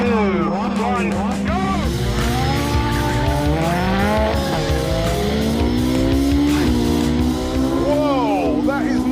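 A Ferrari 458 with a 4.5-litre V8 and double-clutch gearbox launches hard from a standing start, its engine note rising through rapid upshifts and sweeping up again, loud and continuous, with excited talk over it.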